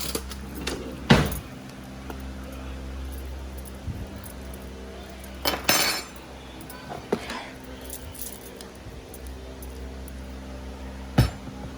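A metal spoon clinks against a dish during home cooking of a Trinidadian meal with lentil peas, stew chicken and potato salad: a few sharp, isolated clinks spaced several seconds apart over a steady low background hum.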